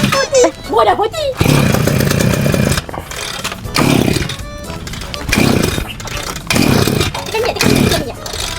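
Petrol grass cutter engine revving in rough, buzzing bursts that rise and drop, close by and loud, with people chatting over it during outdoor yard cleanup.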